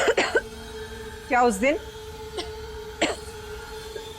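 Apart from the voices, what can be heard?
woman coughing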